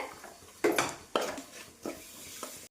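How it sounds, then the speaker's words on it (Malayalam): Jaggery going into a pan of chilli pickle, with several clattering knocks and scrapes of a utensil against the pan, close and fairly loud, then fading to a quieter stir. "നമുക്കിനി ശർക്കര ചേർത്ത് കൊടുക്കാവേ."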